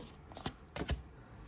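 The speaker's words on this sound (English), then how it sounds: "The thing with these cards is that they can be kind of hard to shuffle because they're heart shape." Heart-shaped tarot cards being shuffled, a few quick papery riffles and slaps heard up close, alone and fairly quiet, with short pauses between bursts.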